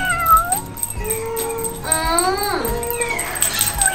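A cat at a cat cafe meows several times nearby, with rising and falling cries over soft indoor background noise and faint voices.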